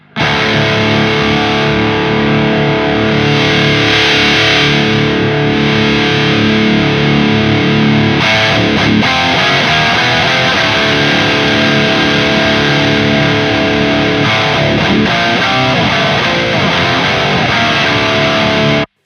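A heavily distorted electric guitar plays loud, continuous chords and riffs through a Mesa Cab Clone IR speaker simulation, with a brief pause and retouching of the tone midway.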